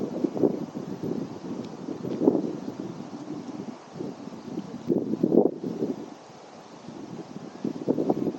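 Wind at Juanita Beach gusts in repeated low rumbling buffets against the microphone, rising and easing for several seconds with brief lulls.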